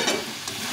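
Fried cauliflower with peas being sautéed and stirred in a pan for a Bengali curry gives a brief, steady close sizzle with a scrape or two of stirring.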